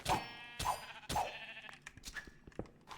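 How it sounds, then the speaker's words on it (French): A sheep in the game Minecraft, RLCraft modpack, bleats three times in quick succession, clear and close, followed by softer clicks and scattered game noises. "Un mouton."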